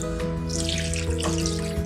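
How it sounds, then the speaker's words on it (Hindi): Water pours steadily in a continuous splashing stream into a pressure cooker of mutton, with a low hum underneath. "ये हम पानी शामिल करेंगे"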